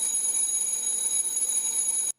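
A bell rings rapidly and continuously inside a glass jar as air flows back in, giving a bright, buzzing metallic ring that holds steady and then cuts off abruptly.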